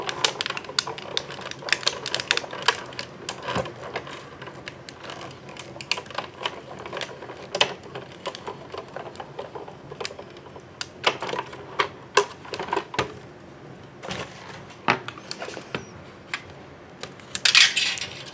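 A hand-cranked Cuddlebug embossing machine presses a flattened aluminum soda can sheet through its rollers, giving close, irregular clicks, crackles and crunchy snaps that run continuously with no talking.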